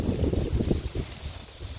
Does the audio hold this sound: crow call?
no